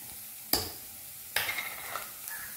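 Chili powder frying for a pomfret curry: two sharp spoon strikes against the pan set off brief hissing and stirring scrapes over a quiet background. No one speaks.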